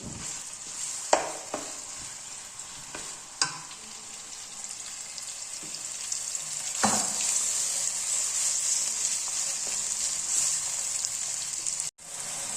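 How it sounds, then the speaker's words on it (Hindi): Steady sizzling of minced meat frying in a pan over medium heat, with occasional sharp clicks and scrapes from stirring, continuous and fairly close throughout. "इस कीमा को हमने थोड़ा सा भूनना है। थोड़ी सी दरमियानी आंच कर देंगे और इसको थोड़ा सा भूनेंगे।"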